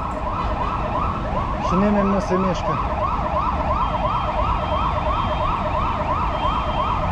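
An ambulance siren wails continuously in a traffic jam at city traffic lights, steady and prominent over road noise, while someone speaks briefly partway through.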